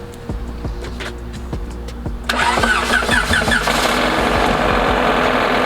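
Rhythmic ticking and knocking from an engine, then it cranks and catches, settling into a loud, rough running roar.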